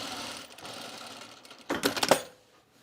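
A sewing machine runs gathering stitches on a cropped jacket, a short burst of rapid mechanical stitching near the end after a quiet stretch, close and moderately loud.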